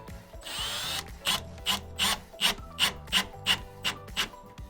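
A screw driven with a drill into a dense wood stud while hanging drywall: a brief whirring whine, then about nine rhythmic ratcheting rasps, close and moderately loud, with no talk.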